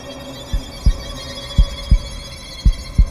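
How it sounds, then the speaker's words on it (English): Heartbeat effect in the spooky Halloween apartments of the video game Avakin Life: three pairs of deep, thudding lub-dub beats, evenly spaced and loud over a faint steady hum, with no talk. "Heartbeat sound effect."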